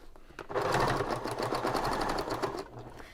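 A sewing machine with a Teflon foot stitches vinyl for a braided boho bag, a close, loud rapid rattle of needle strokes running for about two seconds before slowing to a stop.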